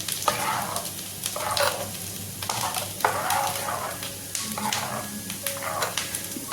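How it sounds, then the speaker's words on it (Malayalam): Ground coconut mix being stirred into yogurt gives repeated wet, scraping stirs in bursts of about a second, close and moderately loud against a low background hum. "നമ്മൾ നേരത്തെ തയ്യാറാക്കി വെച്ചിരിക്കുന്ന തൈരിലേക്ക് നമ്മൾ അരച്ചെടുത്ത തേങ്ങ മിക്സ് ചേർത്ത് കൊടുക്കാം നല്ലതുപോലെ ഒന്ന് ഇളക്കി കൊടുക്കാം"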